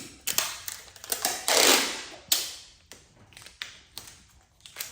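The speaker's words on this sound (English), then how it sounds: "I'm going to use a little bit of tape" Adhesive tape being pulled off the roll and pressed into place while installing a cat door, a longer ripping stretch amid sharp close taps and crinkles, no speech.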